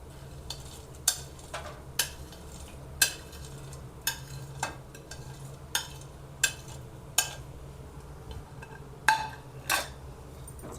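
A spoon or spatula stirring a mixture of dates and roasted dry fruits in a pan, giving repeated sharp scrapes and clinks at roughly one-second intervals over a quiet background.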